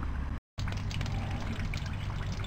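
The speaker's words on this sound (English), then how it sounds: "And there's the water and flush that came out." Water and radiator flush drain out of a disconnected radiator hose on a 1996 Ford Explorer XLT 5.0 AWD, a steady close splashing trickle with a brief dropout near the start.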